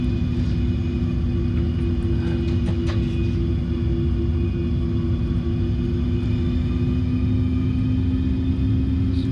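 An airliner taxis in a flight simulator game, a steady, droning jet-engine hum with a constant whine above it, unbroken and even throughout, with no talk.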